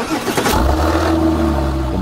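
A 1996 Porsche 993 Turbo with an air-cooled 400-horsepower engine revs hard under acceleration, a loud continuous rising roar heard close, with no talking.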